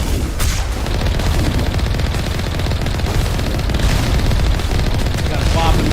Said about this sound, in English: They're already shooting me from so far away.